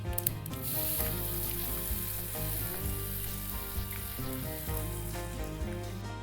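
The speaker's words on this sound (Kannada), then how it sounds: "ಒಲೆ ಆಫ್ ಮಾಡಿಬಿಟ್ಟು ನಾವು ರುಬ್ಬಿ ಇಟ್ಕೊಂಡಿರೋಂಥ ಚಟ್ನಿನ ಇದಕ್ಕೆ ಹಾಕ್ಕೊಳ್ಳೋಣ." Ground chutney hits a hot spice tempering in a pan just after the stove is turned off, giving a loud, continuous, crackling sizzle that stays steady throughout with no voices.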